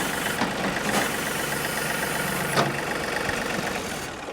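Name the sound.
John Deere 3 Series tractor engine running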